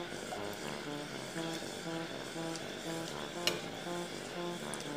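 Brigadeiro-filled pastel frying in hot oil, a steady soft bubbling sizzle with faint clinks of a utensil, close and continuous.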